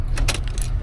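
An ignition key on a jangling key ring slides into the switch of a new 2025 Tata LPT 1816 BS6 truck, a few close metallic clinks and rattles over a low background hum.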